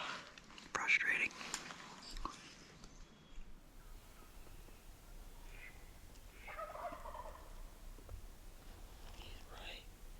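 Wild turkey gobbles carry from a distance in open country, faint and scattered over a quiet outdoor background, with soft whispered talk early on.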